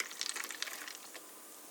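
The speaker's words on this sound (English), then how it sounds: "you open up the Blackberry Hibiscus Sparkling Water, and you pour it into" Blackberry Hibiscus sparkling water poured into a mug, a soft continuous fizzing, splashing trickle with a few brighter bubbly crackles, fairly quiet and close, with no voices.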